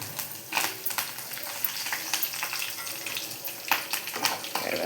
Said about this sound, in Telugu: ఇప్పుడు మనము కరివేపాకు వేసేద్దాం